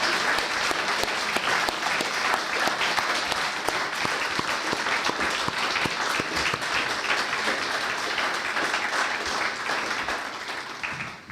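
Sustained applause from a sizable audience at a speakers event, steady and dense throughout, with a few faint voices mixed in before it tapers slightly at the end.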